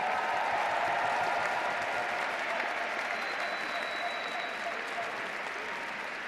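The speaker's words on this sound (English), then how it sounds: "Please give them a round of applause." A large university commencement audience gives sustained applause for the ceremony organizers, a dense, even wash of many hands clapping that fades slightly over several seconds, with faint crowd voices beneath.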